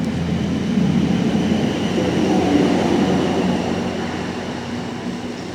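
A 2-car Class 158 diesel train at Southampton Airport Parkway station gives a steady, loud low rumble that swells and eases slightly, with no voices.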